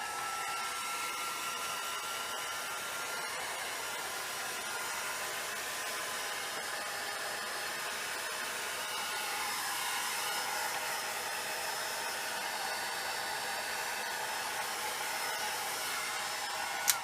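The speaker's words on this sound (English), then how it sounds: "I'm going to switch to the hair dryer just to dry that" A hair dryer on its low setting blows steadily to dry alcohol ink, a constant close airy whir that holds unchanged throughout with no talk.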